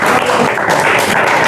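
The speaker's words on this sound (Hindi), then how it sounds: "जोरदार तालियां।" A classroom group gives loud, dense applause for a correct answer in a quiz activity, a steady burst of clapping filling the short moment with no talk.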